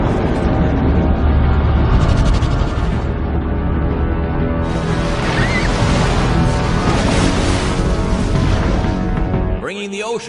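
Ocean waves rendered as a loud, dense, continuous roar of surf and rushing water with wind-like noise, steady for about ten seconds before cutting off abruptly, followed by a brief voice.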